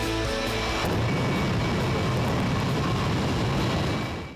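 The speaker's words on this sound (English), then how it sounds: "The fireworks were provided by this jet-powered school bus." A jet-powered school bus at a 50th-anniversary event roars loudly and steadily, a dense broadband jet engine blast with a whining tone that holds throughout.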